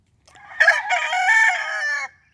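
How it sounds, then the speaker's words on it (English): Old rooster crowing once nearby, a single loud drawn-out cock-a-doodle-doo lasting under two seconds, alone in quiet surroundings. "I think that one there is the oldest rooster I've got on the place."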